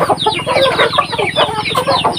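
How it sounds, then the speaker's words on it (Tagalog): Many chickens cluck and chatter together nearby in a dense, continuous flock, with overlapping calls throughout. "Dami na nila mga boss ang manok natin"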